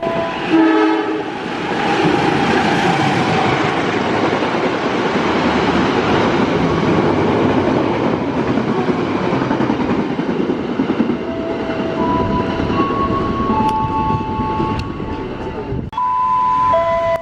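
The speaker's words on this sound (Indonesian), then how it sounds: "setelah kereta api Serayu ini melintas terlebih dahulu" A train rumbles past at close range with steady rolling clatter, and its horn sounds in a few short blasts near the end.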